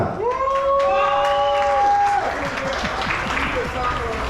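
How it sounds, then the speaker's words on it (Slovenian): A crowd applauds at a motorcycle club's 20th anniversary in a dense wash of clapping while a voice carries a sustained, drawn-out call near the start, loud and reverberant. "Dajmo še en aplavz za Primoža!"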